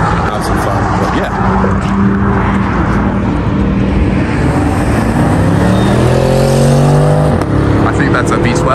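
A V10 or V12 car engine revs at a Las Vegas car meet, its rising and falling harmonic tones climbing loudly near the end over a steady rumble of other engines and crowd noise, with people talking throughout.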